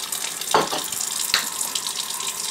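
Warm water runs steadily from a sink tap for felting beads. It makes a continuous close hiss and splash, with a couple of soft clunks, and no voices.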